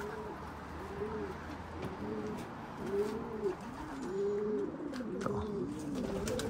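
Young racing pigeons on a morning exercise session coo steadily in repeated soft, rolling calls at close range over a low outdoor background, with a brief spoken word.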